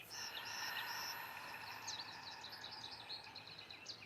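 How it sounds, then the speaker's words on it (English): Birds sing and chirp in the background outdoors, repeated short high tweets and trills over a faint steady insect-like buzz, soft and distant with no voices. "Hear the birds in the background."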